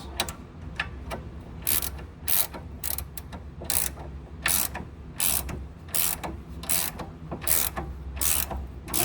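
Ratchet wrench clicking in repeated bursts while tightening a nylon lock nut under a 2017 Ford Transit during catalytic converter work, close and fairly loud with short pauses between strokes.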